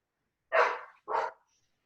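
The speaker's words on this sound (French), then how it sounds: "C'est toi, le chien?" Two sharp dog barks in quick succession, close and fairly loud, heard during an online video call, with silence before and after.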